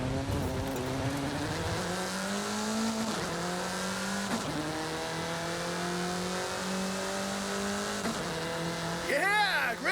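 A car in Forza Horizon 5 revs and accelerates through its gears, the engine note climbing, dropping at each shift and climbing again, with tire squeal near the end and talk over it.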